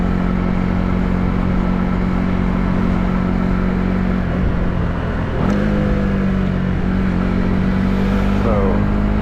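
A Honda CB125R motorcycle with about 15 horsepower accelerates while being ridden around Belfast, a steady close engine drone with a rising rev sweep midway, under continuous wind rush.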